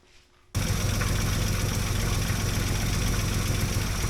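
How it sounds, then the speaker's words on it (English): After a brief quiet moment, a truck engine cranks and catches, then settles into a steady, loud, rumbling idle that continues without change. "Now let's start the truck up and see what we got."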